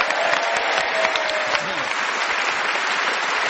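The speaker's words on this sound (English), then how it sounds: "A round of applause." A studio audience at a radio panel game show breaks into applause, loud and sustained clapping throughout.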